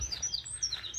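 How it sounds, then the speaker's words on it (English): Birds chirping outdoors on a walk, with several quick, high tweets overlapping against a soft background hiss. "You can hear the birds in the background there, very loud."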